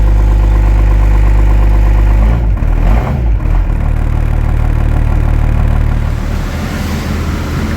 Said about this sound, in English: I'm gonna let it sit and idle